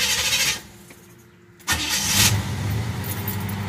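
A Cadillac LS Brougham with a 305 engine cranks briefly, goes quiet for a moment, then fires and settles into a steady, loud idle close to the microphone.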